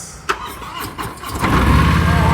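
A cruiser motorcycle engine starting: a few sharp clicks and cranking bursts, then the engine catches and settles into a steady, close idle rumble.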